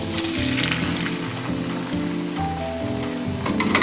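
Onions sauté in a hot pan, a steady, dense sizzle and crackle close by, joined by a constant low musical tone throughout, with no voices.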